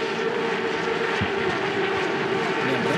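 Stock Car race cars accelerate together at a race restart on the Velopark circuit, a loud continuous engine roar holding steady throughout.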